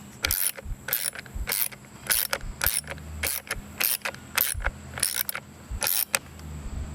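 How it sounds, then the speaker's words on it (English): Screws driven into the plastic blower fan housing of a 2008 Chevrolet Malibu AC and heater system, heard as a close run of quick, sharp ratcheting clicks in uneven bursts. "Again, you're just screwing into plastic."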